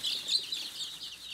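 Young chicks chirp steadily inside a brooder enclosure, a continuous high-pitched peeping chorus that stays close and fairly even throughout, with no talking.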